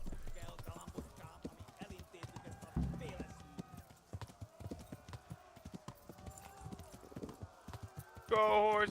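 Horse hooves clip-clop steadily during a ride in the medieval game Kingdom Come: Deliverance, fairly quiet and close, with someone talking excitedly over the hoofbeats and a brief louder burst at the end.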